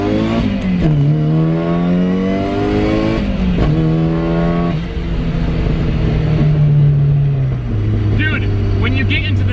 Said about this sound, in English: When you get into the next gear, boost is instant with flatfoot shifting.